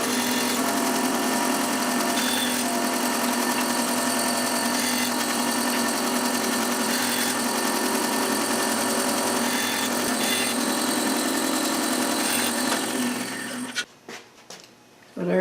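Band saw running steadily while cutting a run of wood segments on a wedge-cutting sled, a sustained loud whine and hum that stops abruptly near the end, leaving a few brief knocks.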